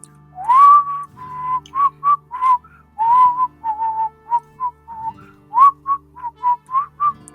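A person whistles a tune: clear, close, loud notes in short phrases, a few long sliding notes mixed with quick separate chirped ones, over a faint steady hum, with no talking.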